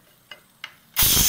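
A pressure cooker of beef, after six whistles with the heat turned off, gives two short puffs and then bursts into a loud, steady hiss of escaping steam that continues to the end, close by.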